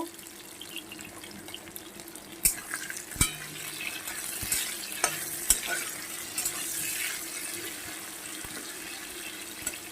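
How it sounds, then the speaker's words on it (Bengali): Bitter gourd slices with a little salt frying in a pan at home, a steady soft sizzle with a few sharp clicks and clatters of stirring, no talk. "দেখো উচ্ছেটা আমার হাফ ভাজা হয়ে গেছে"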